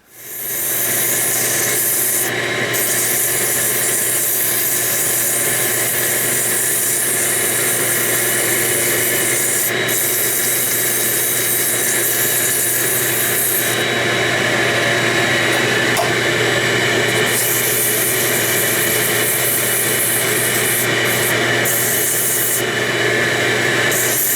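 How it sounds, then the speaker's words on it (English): An electric sander with a dust chute works steadily on wood, a loud continuous rasping whir that holds for the whole stretch with slight variations and no talk. "I've got my little dust chute here to collect the dust as I'm sanding"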